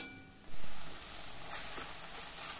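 Vegetables with salt sautéing in oil over medium heat, a steady soft sizzle and hiss that swells briefly near the start and then holds an even, close, continuous crackle.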